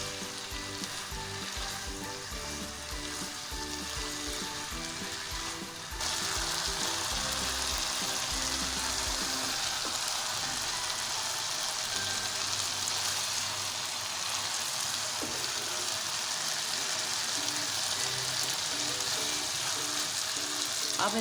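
Okra (bhindi) tossed into well-roasted masala in a pan sizzles steadily and loudly, the frying growing fuller and brighter partway through as it is mixed, with no talking.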